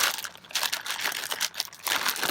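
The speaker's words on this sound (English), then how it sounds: "you mix it all together in your plastic bag" Egg and roughly 425 grams of dry mix kneaded together inside a plastic bag at a camp setting, giving close, irregular crinkling and squishing of plastic in short bursts, with no talking.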